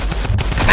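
Double-barrel shotgun blasts in a video game, a short burst of loud, close gunfire reports crowding together in under a second.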